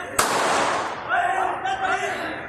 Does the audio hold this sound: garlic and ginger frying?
no